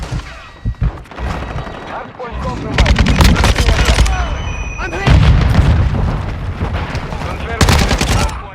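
Call of Duty ranked match gunfire: loud, close rapid automatic bursts and booming shots, in two long sustained volleys, with a voice heard faintly in the mix.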